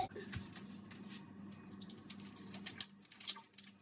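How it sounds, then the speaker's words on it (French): Tap water runs steadily while firm tofu is drained after a two-minute soak in boiling water, a continuous close splashing wash with brief louder gurgles near the end. "Ensuite, tofu ferme, je vais l'égoutter."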